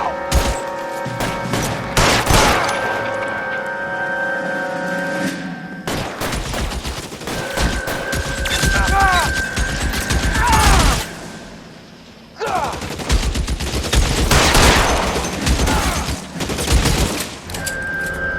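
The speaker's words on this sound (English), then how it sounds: "Somebody put some fire on that guy!" A shootout in the L.A. Noire video game on PS4, with dense, repeated bursts of gunfire rattling throughout and shouted voices mixed in among the shots.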